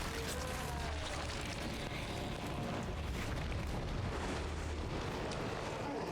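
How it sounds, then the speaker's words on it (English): Shotgun blasts in Resident Evil 7 come as a dense, booming roar that fills the whole stretch at steady loudness, with heavy low rumble and no clear gaps between shots. "I'm using my shotgun"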